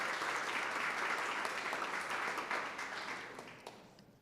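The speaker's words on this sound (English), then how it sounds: "let's give them a round of applause" Audience applause at a town beautification awards ceremony, steady broadband clapping from a seated crowd that holds level and then gradually tapers off toward the end.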